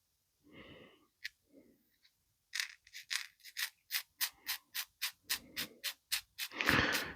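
A few soft scrapes, then a quick series of rhythmic rubbing strokes as a vacformed plastic canopy is sanded on a roughly 400-grit sanding stick, about a dozen back-and-forth passes, close and fairly quiet.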